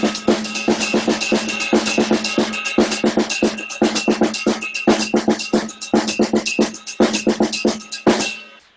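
Sticks play an inward paradiddle on a cowbell, with the doubled strokes falling in the middle of each group, in a long, even stream of bright, close metallic hits that keeps a steady pulse until it stops.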